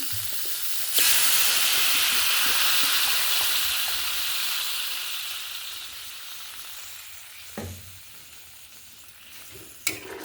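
Water poured into fried spices in a pan for a fish and mixed vegetable curry bursts into a loud, close sizzle that slowly fades to a softer hiss, broken by a few clanks of a utensil.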